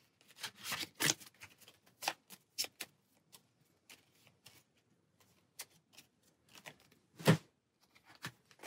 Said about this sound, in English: Then our level 2s will go on top of that after we shuffle those together.